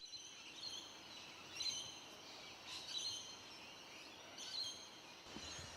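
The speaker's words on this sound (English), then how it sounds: "If you listen carefully, you can hear a cacophony of bird calls." Several birds call and chirp intermittently against a steady hiss of Blue Gum High Forest ambience in Pymble, Australia, with brief bursts of high twittering at moments.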